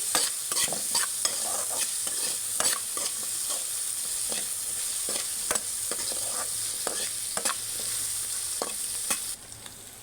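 Nalleru (veld grape) pieces fry with salt in a pan for chutney, a dense close sizzle broken by frequent quick spatula scrapes that quiets slightly at the very end.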